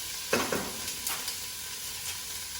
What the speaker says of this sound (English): I have my oil heating, and the first thing I'm going to do, of course, is to fry the onions